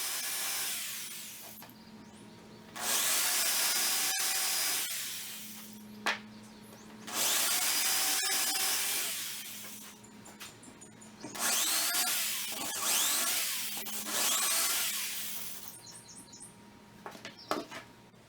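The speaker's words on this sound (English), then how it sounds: "Now all your pieces are drilled out" A power drill bores holes through scrap wood pieces in four or five loud whirring bursts separated by short quiet pauses, with light knocks and handling between bursts.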